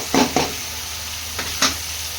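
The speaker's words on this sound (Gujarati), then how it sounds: "ડુંગળી ટમેટા મરચાની બધી ગ્રેવી થઈ જાય ત્યાં સુધી કરશું" Onion, tomato and chilli gravy cooking in a pan, with a few short stirring scrapes and sizzling bursts over a steady low frying hiss.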